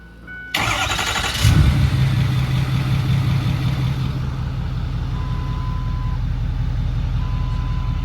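A Ford 6.4 Powerstroke diesel truck fires up and rumbles loudly while reversing, its steady low engine drone running alone after a sharp initial start, with no talk over it.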